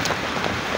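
Heavy rain pours steadily in a dense, broadband wash with occasional wind gusts buffeting the microphone, continuous and fairly loud throughout.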